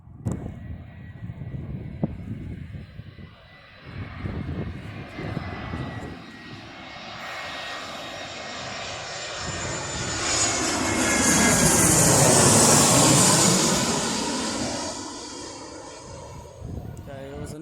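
An EasyJet Airbus A319 jet lands at Birmingham Airport, its engine roar swelling from a distant rumble to a loud, whining peak as it passes close, then fading, with voices talking early on.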